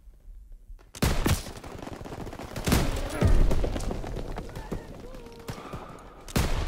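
Sniper rifle fire in the Liberation WW2 video game, loud sharp shots booming one after another over a dense wash of battle noise, with a voice speaking over it.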